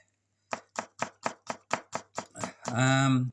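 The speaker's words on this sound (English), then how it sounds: "I'll just slice it up pretty thinly" A knife slices food thinly on a board, about nine quick, evenly spaced cuts in a brisk rhythm, close and clear, followed by a voice speaking right after.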